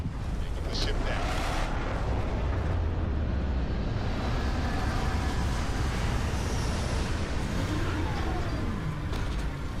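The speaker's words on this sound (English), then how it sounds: "Taking the ship down." A spaceship touching down in Starfield, a heavy continuous roar and rumble of engines that stays loud and dense throughout.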